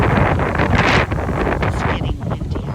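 Strong outdoor wind buffets the microphone in steady, heavy rumbling gusts with rustling hiss, continuous and close throughout with no clear speech.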